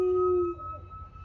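A siren wails outside a garage, a steady high tone that fades out after about half a second over low background rumble.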